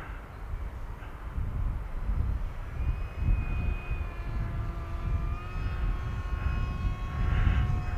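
Motor of an AtomRC Dolphin Pro RC plane at half throttle in flight, a steady whining drone with gentle pitch shifts, heard over rumbling wind noise on the microphone.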